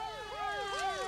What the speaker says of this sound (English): The ambulance just pulled out.